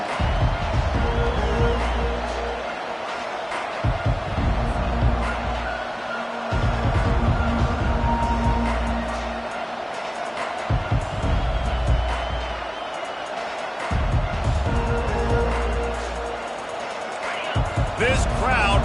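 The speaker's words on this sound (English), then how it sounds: "This crowd bringing an ear-splitting welcome to their visitors." Stadium crowd roaring steadily through a video game football match, a constant loud wash of noise under continuous commentary, with occasional thumps.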